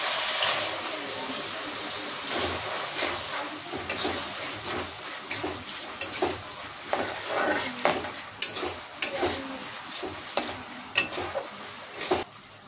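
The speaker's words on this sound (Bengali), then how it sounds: "এই যে পেঁয়াজটা ভালোভাবে ভাজা হয়ে যাবে" Chopped onions fry in oil with bay leaves, cloves, green cardamom and a cinnamon stick, making a close sizzle. A spoon stirs and scrapes the pan in repeated clattering strokes that grow louder and more rhythmic toward the end.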